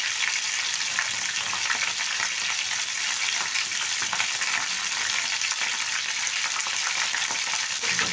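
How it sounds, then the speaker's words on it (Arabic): Chicken sizzles steadily in a pan with onion powder, garlic powder, spices and chicken stock as it is stirred, a dense, continuous frying hiss with faint scraping throughout. "وهنمسكه نقلبه كله كده ببعضه يندمج مع بعضه"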